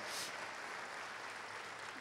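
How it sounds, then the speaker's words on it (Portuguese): Applause from a church chaplaincy-course audience welcoming a female bishop, a dense, steady wash of clapping that fills the full two seconds at moderate level. "Vamos receber a nossa bispa com carinho. Salva de palmas."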